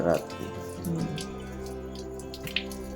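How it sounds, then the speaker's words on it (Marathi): Water drips and splashes while old water is poured out of potted plants during a water change, a light trickle heard under a steady background tone. "आता मी इथे सगळे पाणी बदलून घेते आहे."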